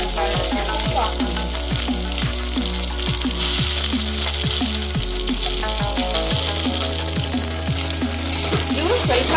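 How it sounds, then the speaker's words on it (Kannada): Brinjal pieces fry in hot oil with a continuous loud sizzle, broken by steady rhythmic scraping and stirring in the pan and a low background hum, with no talking. "ಇವು ಸ್ವಲ್ಪ ಎಣ್ಣೆಯಲ್ಲಿ ಸ್ವಲ್ಪ ಫ್ರೈ ಮಾಡ್ಕೋಬೇಕು ಬದನೆಕಾಯಿ ಹೋಳುಗಳನ್ನ"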